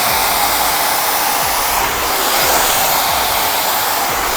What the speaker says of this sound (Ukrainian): Я беру фен, я беру розчоску, розділяю волосся і просто починаю ось так проходити.